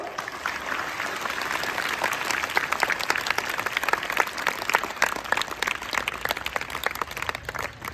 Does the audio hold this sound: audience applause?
yes